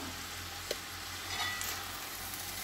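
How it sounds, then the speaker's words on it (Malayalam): Vegetable noodles with a pinch of vinegar are stirred in a hot pan, a steady faint sizzle with a few soft scrapes of the spoon. "നമുക്കിതൊന്ന് ഇളക്കി കൂട്ടാം"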